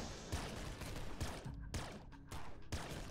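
A slow-firing weapon in the video game Nuclear Throne lets off repeated bursty shots, about five evenly spaced blasts, quiet and alone.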